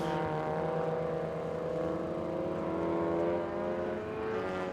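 Race cars in a Super TT endurance race at Sydney Motorsport Park, a steady engine drone with a rising pitch as the cars accelerate and sweep past, loud and continuous for a few seconds.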